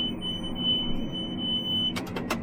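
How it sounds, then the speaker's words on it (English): A steady, piercing electronic warning tone from a hay baler holds over low mechanical rumble, then a few sharp broadband bursts break in near the end. "I think my previous generations can hear that beep. It's so loud right now."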